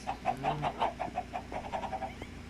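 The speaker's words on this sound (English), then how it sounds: "These are my chickens." Minecraft chickens cluck in a quick, rhythmic series of short calls, close and moderately loud, with no talking.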